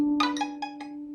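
An out-of-tune violin chord with the second finger placed too high, a steady bowed drone carrying several brief plucked or bowed accents at close range, soft and alone.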